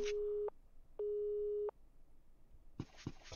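A game phone's busy tone sounds after a call cuts off: two steady electronic beeps, one short and one longer, separated by a pause, followed by quiet background and a few faint knocks.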